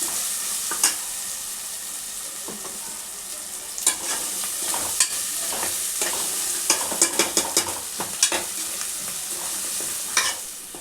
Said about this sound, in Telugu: ఇప్పుడు ఇట్లా వేగిన తర్వాత ఇట్లా చికెన్ వేసుకోవాలి